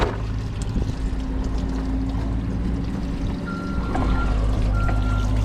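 Coolant drains from a skid steer radiator hose into a pan, a steady low pouring trickle close by, continuous and fairly quiet, with no talk.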